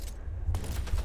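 A short burst of rapid gunfire in the video game Splitgate 2, dense overlapping shots packed into about a second, loud and close over game background noise.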